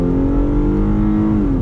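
Hyundai Genesis Coupe engine revs under throttle through a right-hand bend, a loud, close, sustained drone holding steady pitch with road noise beneath.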